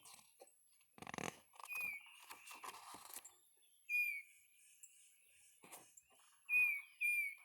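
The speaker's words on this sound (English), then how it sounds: "there's a bird for you" Short, high chirps and whistled bird calls recur a few times with quiet gaps between them, alongside a brief rustling burst near the start.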